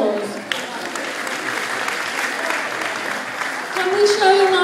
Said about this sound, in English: can we just give Dal a really big round of applause?